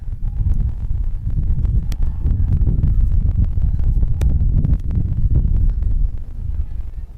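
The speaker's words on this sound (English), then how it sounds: "it is a little bit of a windy game, so we do apologize if that interferes with any of our commentary" Steady low rumbling wind buffeting a microphone at an outdoor high school softball game, loud and continuous throughout, with occasional sharp gusty thumps.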